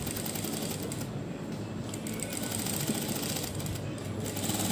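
Sewing machine stitching along a boat neck on a blouse, a continuous even mechanical whir running steadily throughout at moderate volume without speech.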